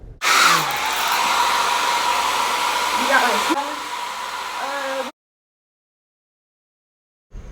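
A handheld blow dryer runs steadily on a closure wig's gelled edges, a loud even whoosh that shifts pitch partway through as the airflow changes, then cuts off abruptly into silence.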